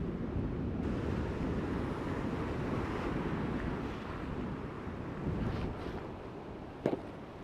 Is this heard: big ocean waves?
yes